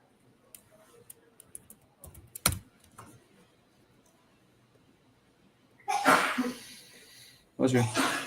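A sneeze bursts out at close range, a short sharp blast followed a moment later by a second loud burst, set against quiet keyboard clicking in a home trading setup.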